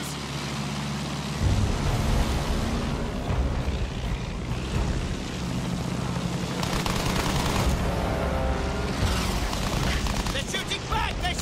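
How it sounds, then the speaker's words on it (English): Gunfire from enemies shooting back in the Battlefield 1 campaign, dense bursts and booms forming a loud, continuous battle din with voices underneath. "They're shooting back!"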